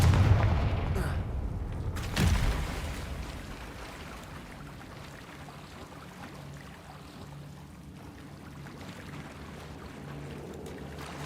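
A Confringo blasting spell bursts in Hogwarts Legacy, a loud booming impact with a sharp crack near the start that fades into a long, low rumbling ambience.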